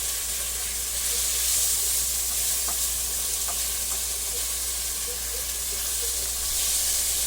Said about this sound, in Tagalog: Igisa din natin.